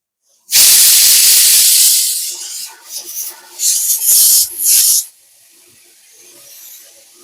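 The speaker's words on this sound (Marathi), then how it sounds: "8 ते 10 शिट्ट्या आपण कुकरच्या काढून घेतल्या आहेत." A pressure cooker whistles while cooking mutton over a medium flame: a loud, sharp burst of hissing steam blasts for over a second, followed by several shorter puffing hisses that fade, leaving quiet background.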